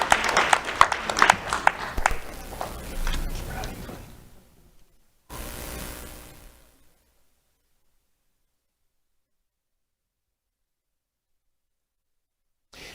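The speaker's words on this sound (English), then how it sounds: "Let's have a round of applause for Rachel Palmeras Vasquez." An audience at a youth awards ceremony claps for a young award recipient. The dense applause fades after a few seconds, a shorter burst of clapping follows, and then there is silence.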